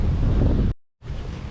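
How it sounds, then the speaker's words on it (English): Strong wind buffets the microphone at a mangrove wetland reserve, a loud broadband roar that drops out briefly and then resumes, with no voices. "The wind is very strong, although the sky is getting darker and darker."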